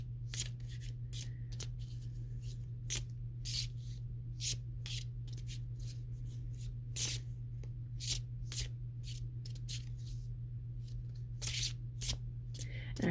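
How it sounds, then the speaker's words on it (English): A moon-inspired oracle card deck shuffled by hand, close and soft, with quick repeated riffling bursts in an uneven rhythm over a low steady hum; no talk. "So let's pull some cards and see what we get."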